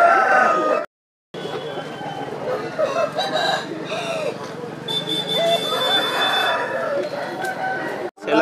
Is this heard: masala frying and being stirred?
no